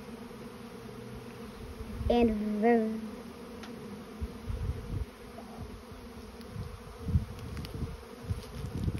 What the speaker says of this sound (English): All I can hear is buzzing.